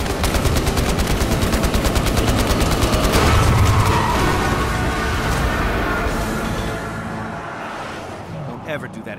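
Dense automatic and rapid gunfire from the Battlefield Hardline video game, loud and continuous, with fast bursts stacking into a heavy roar, then easing slightly toward the end.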